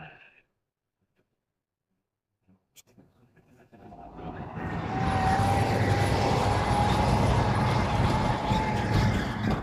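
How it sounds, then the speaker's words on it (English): A drone flies over a dairy farm in Columbia, Missouri; after a few quiet seconds, a broadband whirring drone with a faint steady whine swells in and holds loud and close. "All right, the drone."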